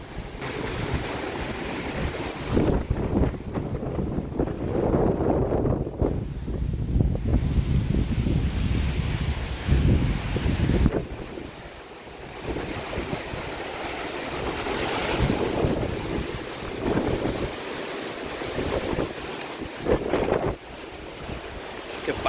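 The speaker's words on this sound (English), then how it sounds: "Don't like standing underneath the trees once there's big gusts of wind." Strong autumn wind gusts roar and surge across the microphone beneath trees on a homestead for a long stretch, swelling and easing in waves, loud and close, with no talking.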